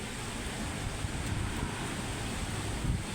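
Gusting wind from Typhoon Kristine in Manila roars as a steady, loud, broadband rush with low rumbling buffets throughout, and no voices.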